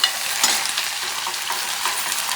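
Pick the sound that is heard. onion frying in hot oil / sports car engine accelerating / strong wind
onion frying in hot oil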